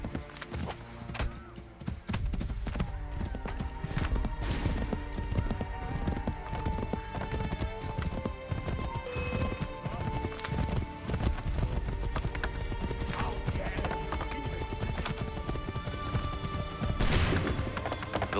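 Hooves clip-clop rapidly in a steady galloping rhythm, with occasional whinnies over loud background music and effects, from the video game Assassin's Creed III.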